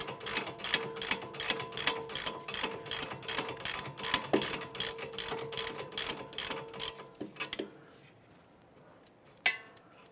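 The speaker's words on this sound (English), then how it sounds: "Let's go ahead and loosen and remove this here." A ratchet wrench loosening the sway bar end link nut on a 2009-2015 Honda Pilot, a fast run of close, sharp clicking strokes that stops, followed by a single metallic knock.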